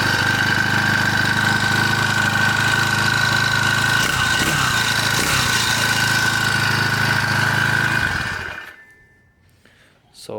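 A two-stroke engine on a motorized bike, running on choke, idles close and loud with a steady, rattling buzz for several seconds, then cuts out into near silence.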